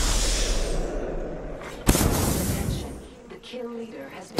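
Gunfire in the battle-royale video game Apex Legends, with one sharp, loud shot cracking out midway over a steady wash of game noise and a second burst at the very end.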